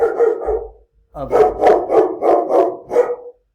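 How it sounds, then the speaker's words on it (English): A dog barks in a rapid string of about eight loud, close barks, with a short pause after the first two. "you got some barking"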